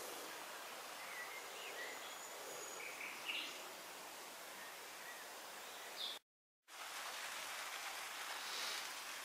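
Steady rain falls outdoors among strawberry beds in late May, a soft continuous patter with faint birdsong at a distance and a brief dropout near the end.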